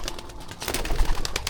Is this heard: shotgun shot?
no